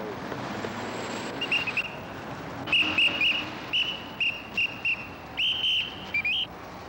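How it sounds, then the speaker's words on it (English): A shrill whistle sounds in a series of short and longer blasts, some trilled, over a windy outdoor hum at the corner of Liberty and Wood in Pittsburgh. "Listen to that whistle."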